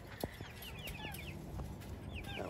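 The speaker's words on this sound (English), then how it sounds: "That was a broiler saying," Broiler chicken clucking in a backyard farmyard coop, a few short clucks and calls close by over a steady outdoor background, with no talking.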